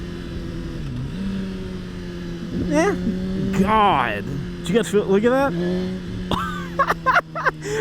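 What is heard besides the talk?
2020 Suzuki GSX-R1000 motorcycle downshifting with engine braking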